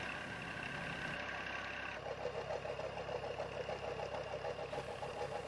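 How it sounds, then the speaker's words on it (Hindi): A Massey tractor engine runs continuously on farmland in Sindh, driving a water pump turbine, a steady, even mechanical drone with a rhythmic throb and no talking. "ये देख सकते हैं टरबाइन को ये ट्रैक्टर की मदद से चलाया जाता है।"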